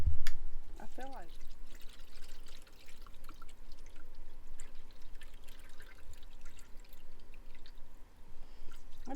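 Water glugs and pours from a gallon jug into an AeroGarden hydroponic planter inside an RV, a steady trickling stream with a few splashes, while people talk over it.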